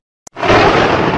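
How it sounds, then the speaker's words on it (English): A cartoon schoolhouse explosion: a sharp click, then a loud, sustained broadband blast that swells and roars on without fading through the end. "I am going to explode the schoolhouse."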